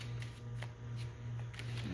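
A deck of playing cards being shuffled during a card magic routine, a steady close riffling rustle lasting the whole stretch with a constant low hum underneath and no voices.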